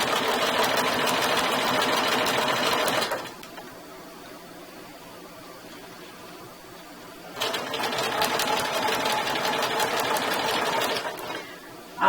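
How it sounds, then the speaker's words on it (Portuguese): A sewing machine stitches bias binding onto a half-moon zippered pouch, running in two sustained, even bursts separated by a quiet pause, close and loud. "E agora eu venho costurando."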